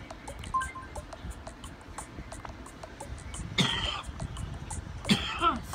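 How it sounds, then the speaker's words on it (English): Two short bursts of coughing from a person, a few seconds apart, close and fairly loud over faint game music and background noise. "Sorry about the cough."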